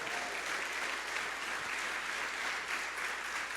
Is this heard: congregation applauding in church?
yes